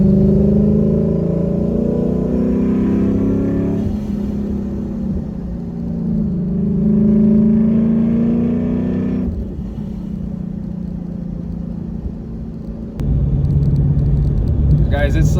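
Lexus RC F fitted with a fuel pump booster, driven on a hot day in Arizona, its engine giving a loud, steady low rumble that rises and falls with throttle, with someone talking over it.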